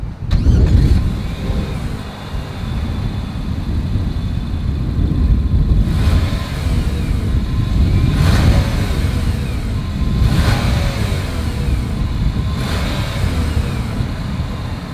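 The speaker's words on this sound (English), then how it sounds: "As always, here is that exhaust clip." Exhaust of a 2021 Nissan Rogue Sport with a hidden single outlet, heard close up as a steady low rumble with several short revving pulses and no talking.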